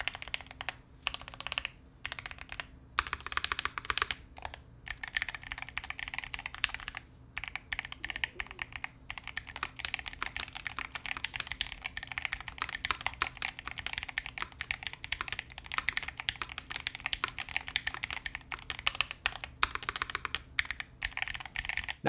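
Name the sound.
typing on Varmilo gaming mechanical keyboard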